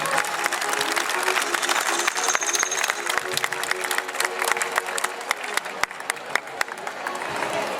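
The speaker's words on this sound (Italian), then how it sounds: "L'applauso anche a loro." Festival audience at a grape harvest fair in Quartu Sant'Elena applauds a folk group with dense, steady clapping and some cheering throughout, while a voice talks over it.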